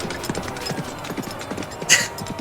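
A horse's hooves clip-clop in a steady, moderately quick rhythm in a Tintin Cigars of the Pharaoh video game, near and clear, with a brief bright sound effect flaring near the end.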